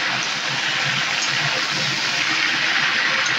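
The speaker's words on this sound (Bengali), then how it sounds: "আর আমের যে জলটা বের হয়েছিল সেই জলটা আমি ফেলে দিচ্ছি।" Water released from cooking mangoes for a mango pickle is poured off, a continuous loud gushing splash that holds steady throughout with no talking.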